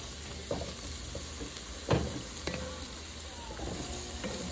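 A spoon stirs milk into a flour-thickened sauce in a single pot, with soft continuous scraping, faint sizzling and a few sharper knocks against the pan.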